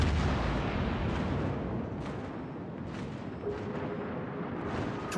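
Torpedo explosions in a naval combat video game roll out as a continuous low rumble of booming detonations, loud and heavy at first and then lingering as a dense, muffled roar.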